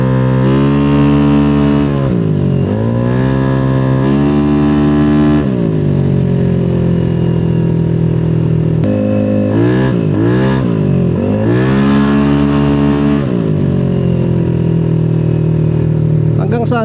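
A motorcycle engine running too high in its RPM range revs up and drops back in repeated swells, a loud, close, buzzing drone whose pitch climbs and falls several times, with a brief click partway through.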